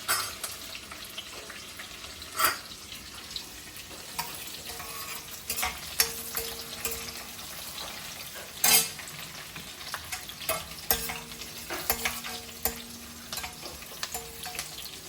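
Rajma curry masala fries in a pan with a steady sizzle, broken by several distinct scraping stirs and clinks of a spoon against the pan, close and moderately loud, with no talking.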